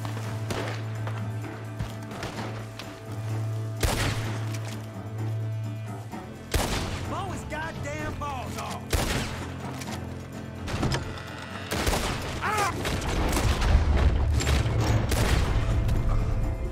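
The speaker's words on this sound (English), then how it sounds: "Gatling gun, stupid, take cover, dummy." Rapid bursts of Gatling gun fire in a Red Dead Redemption 2 bank heist shootout, loud and close, coming in repeated rattling volleys with booming impacts and mechanical clatter between them.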